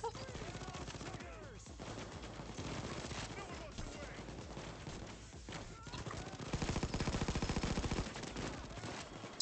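Gunfire in the heist video game PayDay 2 crackles through a dense, busy mix with rapid bursts, thickening into a sustained stuttering volley near the end.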